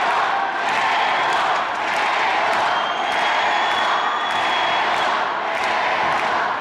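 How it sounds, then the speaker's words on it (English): A dense, roaring arena crowd cheers without pause at a freestyle wrestling 60 kg semifinal, the noise loud and steady throughout with no clear voices on top. "Crowd is still crazy"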